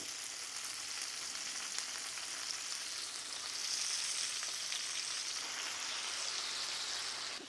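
Pearl onions with balsamic vinegar and kosher salt sizzle in a pan over medium heat, a steady close hiss with fine crackles that swells slightly midway and carries on with no talking.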